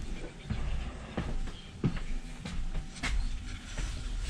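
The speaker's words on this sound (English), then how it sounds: "I just want to take a second to appreciate how nice the trains are in Lithuania." Interior of a modern passenger train rolling through Lithuania: a steady low rumble with periodic knocks from the wheels over rail joints, moderately loud and continuous, with faint voices in the background.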